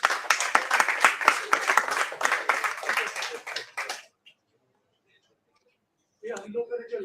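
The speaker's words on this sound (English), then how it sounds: "A big round of applause." Applause from the audience at a doctors' conference hall, dense clapping for about four seconds that dies away into silence before a voice begins speaking.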